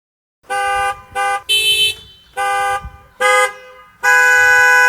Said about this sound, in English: a concert of car horns from Al Eckstein's family to celebrate his 90th